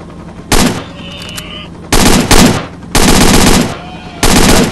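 Four loud gunshot bursts fired from a helicopter on a hog hunt, spaced about a second apart, each a sharp broadband crack with a short decay over steady rotor drone.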